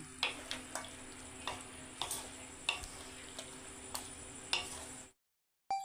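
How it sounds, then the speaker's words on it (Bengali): Mutton coated in spices and a yogurt mixture is stirred in a kadai, giving a steady run of sharp spoon-on-metal scrapes and taps over a soft sizzle, then a sudden cut to silence near the end. "এবারে সবগুলোকে মাংসের সাথে মিশিয়ে নিলাম।"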